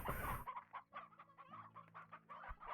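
Chickens in the video game Slime Rancher clucking in a run of short, close, rhythmic bursts after a brief louder sound at the start, with no talking.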